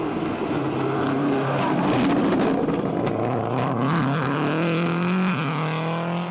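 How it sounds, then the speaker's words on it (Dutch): Subaru rally car with a failing engine at the Omloop van Vlaanderen rally, driving toward the finish: a loud, close, continuous engine roar with wavering, rising pitch, no voices. "Want hij rijdt naar de finish met een zieltogende Subaru."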